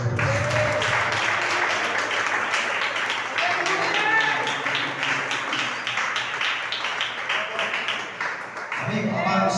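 Congregation clapping for the Lord at the close of a Pentecostal church word service, dense steady applause under ongoing voices and faint music, ending abruptly.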